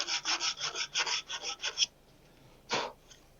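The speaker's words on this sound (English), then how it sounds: "That's some sandpaper. We're going to sand this." Sandpaper rubbed by hand over paint and solder, a quick series of rhythmic scratchy strokes close by, then a pause and one more firm stroke.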